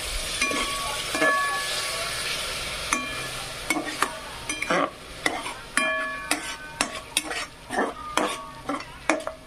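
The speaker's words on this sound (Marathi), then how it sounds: "याला तेल सुटेपर्यंत खालीवरी करून असं मस्तपैकी आपल्याला भाजून घ्यायचं आहे, आलटी पलटी करून" Tomato purée frying in oil for a paneer tikka masala, with a soft sizzle under a series of sharp, rhythmic spoon scrapes and knocks against the pan, close and growing more frequent toward the end.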